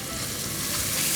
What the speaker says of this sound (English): So you saute this up till the onions go translucent.